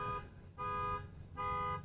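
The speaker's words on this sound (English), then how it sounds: "It's the second car alarm today." Car alarm sounding at Honolulu airport, a steady electronic tone in two repeated bursts with short gaps, heard from some distance over low background rumble.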